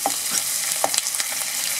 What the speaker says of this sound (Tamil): இந்த வெங்காயத்தை நம்ம கொஞ்ச நேரம் வதக்கிட்டு